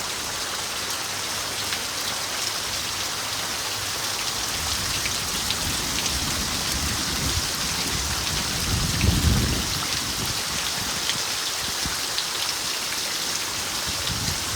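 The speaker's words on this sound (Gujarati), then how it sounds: "વરસાદ બહુ વધારે પડી રહ્યો છે" Heavy rain pours steadily, a dense wash of drops drumming on surfaces with a low rumble swelling briefly midway; no voices.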